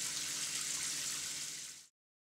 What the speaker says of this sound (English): it is necessary to wash the photos thoroughly in running water